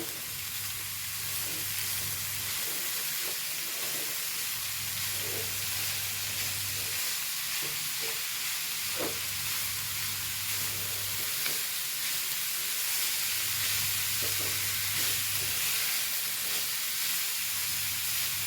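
Shallots, garlic, green chili and coconut sizzle steadily in a pan over low heat, with a constant frying hiss broken by intermittent scraping stirs and a low periodic hum.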